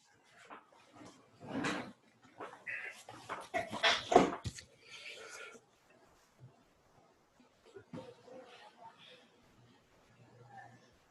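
A dog whimpers and yips indoors in short, plaintive bursts, with a person talking in between and around the cries.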